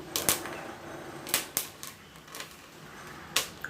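Sharp, irregular pops and crackles of dry chickpeas bursting while dry roasting in a pan, several sudden snaps spaced unevenly over a quiet background.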